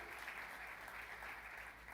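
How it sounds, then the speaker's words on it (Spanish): A church congregation applauds visiting members in a steady, even patter of clapping that stays soft and somewhat distant throughout. "Ustedes pueden aplaudir a los hermanos que están aquí hoy"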